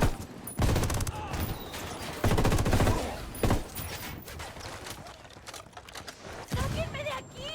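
Gunfire fills a firefight in the video game Ghost Recon Wildlands, with bursts of rapid shots and heavy reports overlapping in a dense, continuous barrage.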